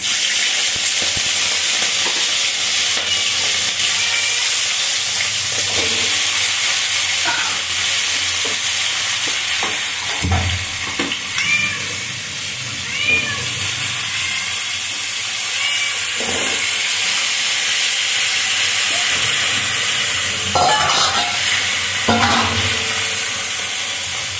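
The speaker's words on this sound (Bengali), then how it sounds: "চিংড়ি মাছ দিচ্ছি দেখো" Prawns fry in hot oil in a pan with bay leaves, potato and kohlrabi, giving a loud, continuous sizzle and hiss with occasional bursts of spattering and stirring.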